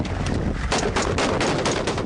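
Heavy gunfire in a street firefight in Mosul as a U.S. patrol comes under attack: loud, continuous bursts of automatic weapons with rapid overlapping shots, close and harsh throughout.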